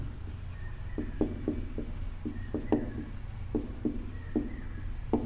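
Pen or chalk writing during a Class 10 NCERT maths lesson, a steady run of short scratchy strokes in irregular clusters, close and fairly quiet over faint room hum, with no talking.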